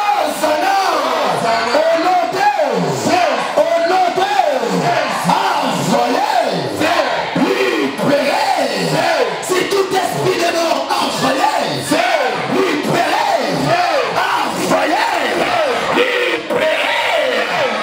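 A church congregation cheers and acclaims in loud, continuous crowd shouting and whooping, many voices rising and falling together across the whole stretch with no pause.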